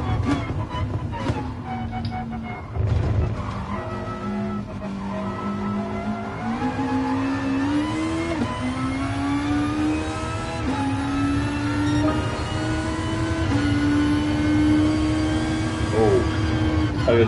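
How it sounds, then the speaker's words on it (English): A Formula One car's engine in the racing video game GT Sport wails loud and close, its pitch climbing repeatedly and dropping back at each gear change over a long continuous run. "the Formula One car"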